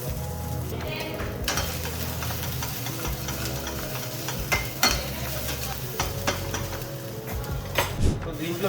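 Ginger garlic paste frying in a pan, a steady sizzle under repeated stirring and scraping of a utensil against the pan, close by, with a few sharper clinks.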